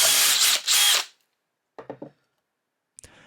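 A power drill bores through a wooden Telecaster guitar body in a loud, close whirring burst, then a few short mechanical clicks and rattles follow after pauses.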